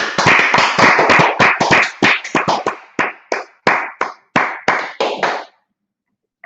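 An audience at a religious gathering claps in unison, a steady run of loud, sharp hand claps that thins into separate spaced claps before stopping.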